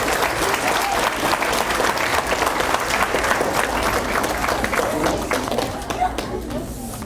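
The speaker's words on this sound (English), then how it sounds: "round of applause for them too" An elementary school sixth-grade banquet crowd applauds the PTO and office staff, dense sustained clapping that fills the room and then tapers off near the end.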